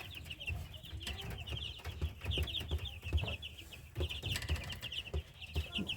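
Chicks and turkey poults peep constantly and shrilly while being weighed, a dense overlapping chorus of high chirps with scattered rustling and handling noises close by.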